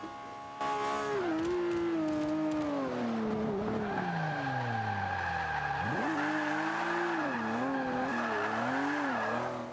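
Long, wavering tire squeals from a Lamborghini Aventador drifting in Forza 5, pitch bending up and down as the car slides, layered over engine drone and continuing loud for almost ten seconds.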